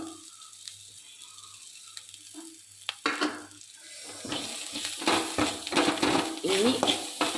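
Jackfruit stir-fry with coconut and crushed chili sizzling in a pan, quiet at first, then louder frying crackle with stirring and scraping of utensil against pan, under someone talking.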